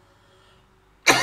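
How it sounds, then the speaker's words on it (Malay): A single sharp cough bursts out close and loud after a near-silent stretch, with a brief rough tail. "Batuk pula."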